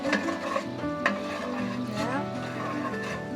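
A thickening, caramelizing mixture for a tomato tarte tatin is stirred in a pan, with steady scraping and light sizzling throughout, close and moderately loud, with a few sharper utensil clinks against the pan.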